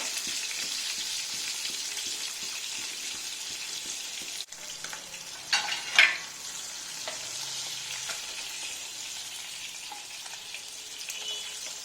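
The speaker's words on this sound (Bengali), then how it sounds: "ইলিশ মাছগুলো অল্প কিছুক্ষণ ভেজে আমি তুলে নেব পুরোটা যাতে ভাজা হয় একটু দেখে নিতে হবে" Hilsa fish pieces fry in hot oil in a pan, giving a steady, dense sizzle throughout, with a brief clatter of a turner or spoon midway.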